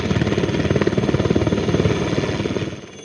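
A helicopter, likely a military aircraft flying injured soldiers to Srinagar, roars loudly and close with a rapid rhythmic rotor thump over a dense engine noise before the sound eases off at the end.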